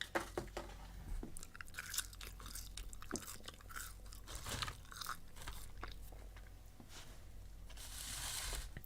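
Close, crisp crunching and chewing of McDonald's fries, with repeated bites and mouth sounds in an irregular rhythm, quiet and intimate with no talk.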